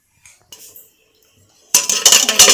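A pot lid is lifted off a covered pot of sprouted field bean uppsaaru cooking on the stove: a sudden bright metallic clatter and scrape, close and loud, after a few soft kitchen knocks.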